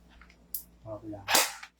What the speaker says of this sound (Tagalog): tunog ng spring, yun yung tunog nung na-rest na